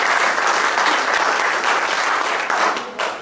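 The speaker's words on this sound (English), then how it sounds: "Quite an applause" Audience at a user group meeting applauds steadily and loudly for the whole stretch, with a brief dip near the end before the clapping picks up again.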